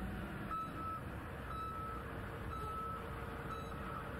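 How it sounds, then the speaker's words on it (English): Backup alarm on an asphalt haul truck at a paving site, sounding four evenly spaced beeps about one second apart, moderately distant over a steady rumble of engine and site noise. "be sure that all truck backup alarms work properly"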